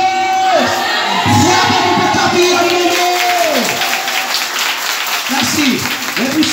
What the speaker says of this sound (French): Cinquième applaudissement devant le trône